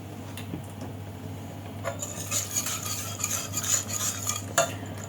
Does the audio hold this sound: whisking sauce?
yes